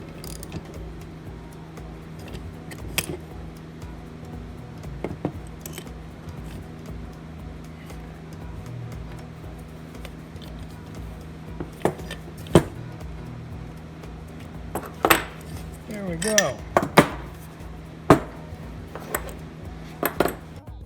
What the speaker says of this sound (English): adjustable wrench on there. Again, this would be a 9/16 on this one. And we're going to tighten it down.